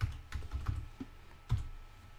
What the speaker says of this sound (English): Type the password for the new user.